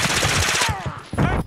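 Rapid automatic gunfire from a Warzone 2 match on Ashika Island crackles in dense bursts, fading briefly before another burst, with players talking over it.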